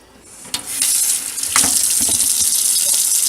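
Cold tap water runs into a kitchen sink, starting softly and then rising to a steady, close splashing rush with a few brief clatters.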